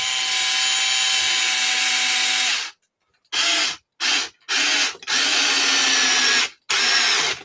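A cordless power driver whines steadily while driving wing screws into an Arrma Kraton RC car, one long run followed by several short bursts separated by silent pauses, close and loud.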